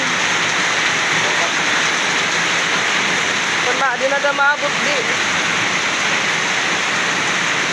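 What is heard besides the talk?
heavy rain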